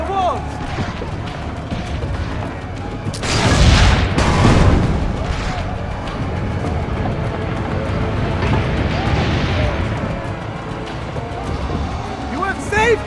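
Cannon fire during a siege battle in the video game Assassin's Creed Brotherhood Remastered, with a heavy booming blast burst around the middle over continuous battle noise, and voices talking throughout.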